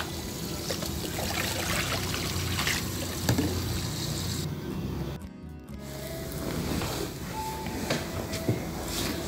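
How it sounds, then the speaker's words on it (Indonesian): Leachate water poured onto grape plants, heard as a close, continuous trickling and splashing stream that drops out briefly midway and then resumes, no talk. "Langsung saja kita siramkan."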